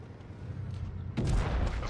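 A tank cannon firing in the WoT Blitz video game, where a French Sentinelle heavy tank is in play: one loud, booming shot with a broad blast that rings on at close range after a stretch of lower battle rumble.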